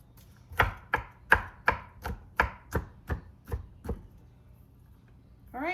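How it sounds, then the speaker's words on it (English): Knife chopping hot peppers and garlic on a board for hot sauce, about ten crisp, evenly spaced chops close up. They slow and fade toward the end, and a brief other sound follows. "give it a little chop"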